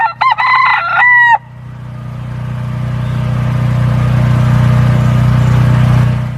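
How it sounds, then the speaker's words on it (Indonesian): A cartoon chicken in a children's animal cleaning game gives a short burst of clucking and crowing, loud and close, followed by a steady low hum that swells and holds to the end. "seekor ayam"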